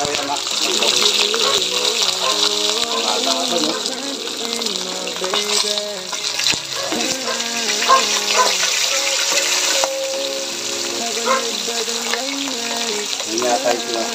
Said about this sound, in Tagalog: Pipirito muna natin itong isda, itong galunggong.